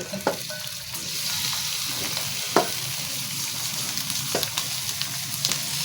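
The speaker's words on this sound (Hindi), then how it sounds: "अब हम इसमें डाल देते हैं अपना चिकन।" Chicken pieces sizzle and fry loudly as they drop into browned onions in a karahi, with a steady crackle broken by a few sharp spatters and stirring scrapes.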